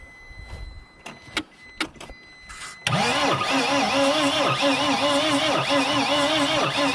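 After a few scattered clicks and clunks, the diesel engine of a 2006 T1N Sprinter van cranks without starting, the starter whirring and chugging in a loud, regular rhythm close by.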